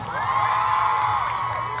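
A large crowd cheers and whoops steadily at an outdoor mini concert with film stars in General Santos, loud, sustained shouting with high-pitched voices rising over the noise.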